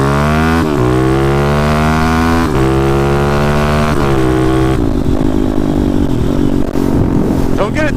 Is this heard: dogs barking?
no